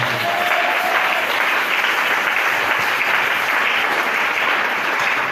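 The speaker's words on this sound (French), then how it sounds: "Acclamons très fort pour la Seigneur." A church congregation applauds loudly and continuously, a dense wash of clapping held at an even level throughout.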